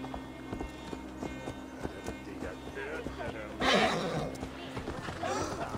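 A horse in the video game Assassin's Creed Valhalla gives a loud, rising whinny partway through, over hoofbeats and steady game ambience, while someone talks throughout.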